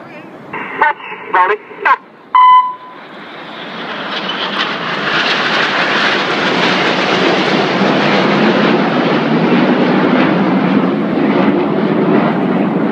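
Red Arrows jets roaring past during an aerobatic display at Torquay, a loud swelling engine roar that builds and sustains after a few short radio-like bursts of speech at the start.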